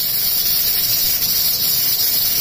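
A loud, steady hiss of steam escapes under pressure from a pressure cooker cooking beef pulao, continuous and close, with no pauses or voices.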